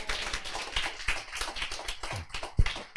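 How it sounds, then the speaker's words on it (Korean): A seminar audience claps for remote listeners in Yanji, China, producing a short burst of uneven hand claps and taps at moderate level, with a few sharper individual claps standing out near the end. "연길 분들 위해서 박수 한번 쳐주시겠어요?"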